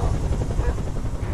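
A helicopter in the video game Beyond: Two Souls makes a steady low rotor rumble that drones on continuously at moderate volume.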